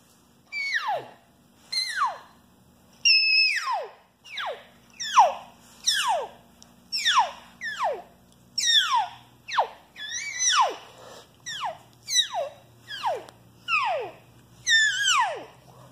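A long run of high, squealing mews that swoop downward, repeated steadily about once a second, alternating softer and stronger calls, a caller imitating elk cow and calf calls, close and clear.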